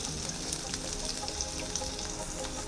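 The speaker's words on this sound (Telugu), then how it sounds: "ఇప్పుడు ఇందులోకి మనం కట్ చేసిన క్యాప్సికమ్ వేసుకొని కొద్దిగా ఫ్రై చేసుకోవాలి" Chopped capsicum and onions frying in butter in a pan, a dense, continuous hiss and crackle of sizzling close up with no talk over it.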